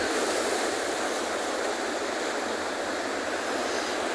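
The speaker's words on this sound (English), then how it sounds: "So I keep hearing what sounds like thunder. I don't know if it's maybe just wave movement." Ocean surf rolls onto a penguin beach, a continuous loud wash of breaking waves with a deep rumbling undertone and wind noise, no voices.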